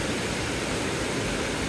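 The Meoto waterfall in a shaded forest in Fukushima in autumn gives a steady, dense rush of falling water, loud and unbroken throughout with no other sounds on top.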